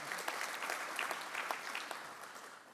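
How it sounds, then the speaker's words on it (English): Applause from a luncheon audience at a Sugar Bowl and National Football Foundation scholar-athlete event, a steady wash of many hands clapping that holds fairly even and tapers slightly toward the end. "please give a warm round of applause for Julian Price of Bonneville"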